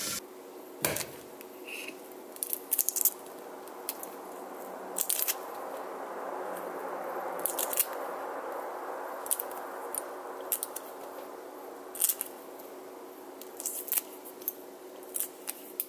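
Hard-boiled eggs, cooled under cold water after boiling with baking soda, have their shells peeled off by hand, making faint, close crackling and scraping clicks in scattered bursts over a quiet background.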